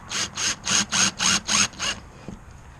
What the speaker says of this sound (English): Let me get a couple of screws in here.